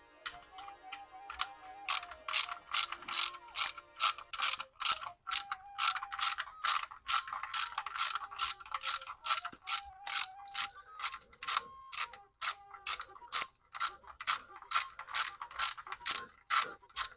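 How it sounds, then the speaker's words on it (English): A ratchet tightens the oil drain bolt on a 2001 Audi A4 Quattro during an oil change. It gives crisp, evenly paced metallic clicks in a long regular run, close and clear against a quiet background. "it's time to put the bolt back"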